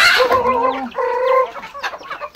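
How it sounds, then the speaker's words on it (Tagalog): Chickens cluck and call close by in a few drawn-out, wavering squawks, then short fainter clucks trail off. "Dami niya palang alagang manok."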